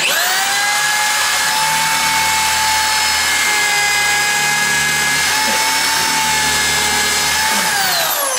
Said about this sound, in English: So pilot out your hole using a power drill.